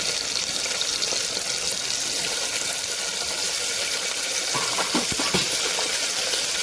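Chopped onion hisses in a hot pan, a dense, even sizzle that stays steady and fairly loud throughout, with a few faint clinks near the end and no speech.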